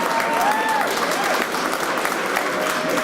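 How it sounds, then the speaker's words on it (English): Applause for award nominees and finalists at the 2019 PRISM Awards ceremony fills the room, a dense steady clatter of many hands clapping with crowd noise and a few faint voices mixed in. "Can I get another round of applause for the nominees, the finalists"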